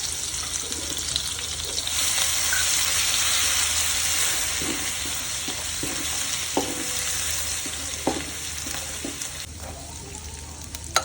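Chili garlic paste sizzles in hot oil with cumin and asafoetida, a steady bright frying hiss with a few soft knocks of a spoon stirring the pan, close and continuous.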